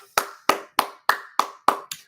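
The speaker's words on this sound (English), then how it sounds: "I gave that a clap." One person clapping hands seven times at an even, steady beat, each clap sharp and close with a short ring in a quiet room, the last one a little softer.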